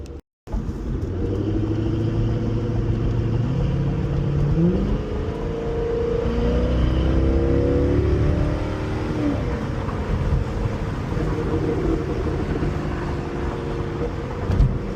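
A C6 Corvette with a Corsa Xtreme exhaust and gutted catalytic converters rumbling loudly up close, with several rising revs over a deep steady idle and no talking.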